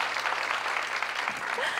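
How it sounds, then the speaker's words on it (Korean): An audience at a diplomacy talk concert claps in a brief burst of applause, steady and fairly close. "야 이럴 때 박수 한번 나와야 되지 않을까요?"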